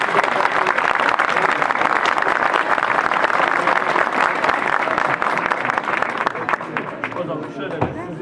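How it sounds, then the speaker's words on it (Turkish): Audience applause at a political candidacy announcement: a dense, loud, steady wash of many hands clapping that lasts throughout, thinning slightly near the end, with some voices mixed in. "evet arkadaşlar bir alkışlayalım."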